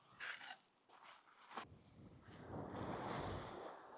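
Gusts of wind buffet a microphone with low rumbling bursts that swell into a steady roar, quiet overall.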